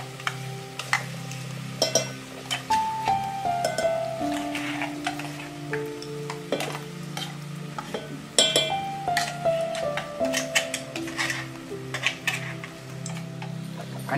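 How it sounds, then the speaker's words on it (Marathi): Freshly ground masala paste sizzling and sautéing in hot oil for crispy vadas, a continuous loud crackling fry with scraping and clinking as it is stirred in the pan. "आणि आता आपण हा मसाला छान परतून घेऊया।"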